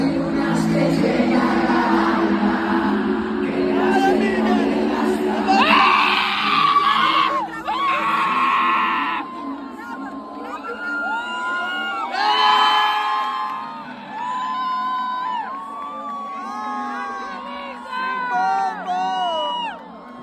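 At a marriage proposal, a crowd screams and cheers: loud, sustained, high-pitched shrieks and whoops from many voices, close and overlapping, in rolling waves that swell and dip for the whole stretch.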